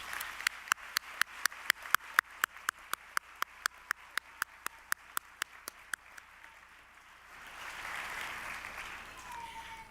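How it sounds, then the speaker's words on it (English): At Central Ohio Technical College's autumn 2015 commencement, sharp, evenly paced claps ring close by over softer crowd applause, then thin out after about six seconds into a low murmuring room tone. "Let's give all of these folks a round of applause"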